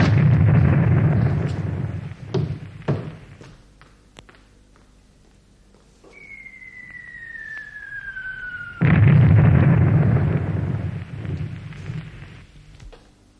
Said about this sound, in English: You told me the English would never use artillery!